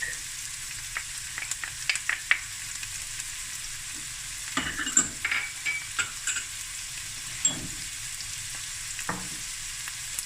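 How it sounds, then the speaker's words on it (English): Cloves, allspice, chilies and garlic fry in a pan with a steady high sizzle, while a spoon scrapes and stirs in scattered knocks and clatters, heavier around the middle of the stretch. "give it a stir, and we're going to fry this for about 5 minutes"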